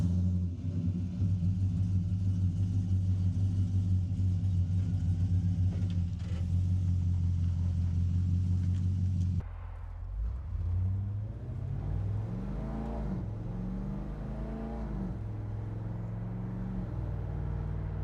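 Holden Sandman panel van engine while driving, a steady deep rumble that drops off partway, then changes to a lower, uneven drone with rising and falling notes as the engine works through gear changes.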